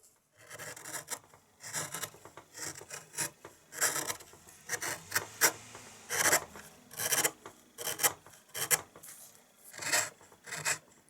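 A hand gouge pares the underside of a carved wooden bird's wings, held in a two-handed thumb grip, giving close, repeated scraping and rasping strokes in an uneven rhythm with brief pauses between cuts.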